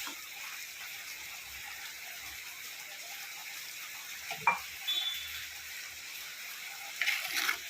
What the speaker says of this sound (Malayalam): എന്നിട്ട് കുറച്ച് വെളിച്ചെണ്ണ ഒഴിച്ച് കൊടുക്കുക.